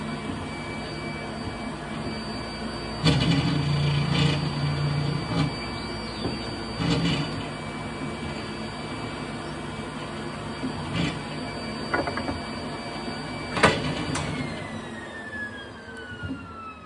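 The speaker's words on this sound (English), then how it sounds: "Turn on the vacuum." A screen printing vacuum table runs with a steady, low mechanical hum throughout, with a few brief knocks and rattles on top, close and moderately loud, no talk.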